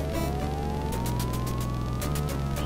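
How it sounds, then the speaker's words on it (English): Police car siren in the game You Are Not A Banana, a loud, continuous wail that sweeps upward over a steady droning background, alone without talk. "I hear a police car."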